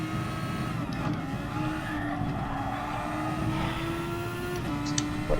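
Race cars braking late into the Monza chicane in GT Sport, a steady engine whine rising and falling through gear changes, close and fairly loud, with a few faint clicks and no voices.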